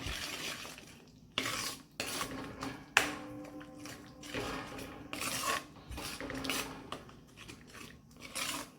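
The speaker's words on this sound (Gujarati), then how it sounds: "ધાણા જીરું અને આ જે મેં પેસ્ટ નાખી છે એના ભાગનું મીઠું પણ નાખી દઈશું અને બધું હલાવી દઈશું" Spices, ground paste and salt being stirred into a cashew and garlic curry in a pan, with a spoon giving intermittent scraping and tapping knocks against the metal, fairly close and quiet with pauses between strokes.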